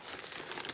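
Plastic bags stuffed with vinyl and HTV craft scraps crinkle steadily as they are handled up close, a continuous dry rustling with no talk.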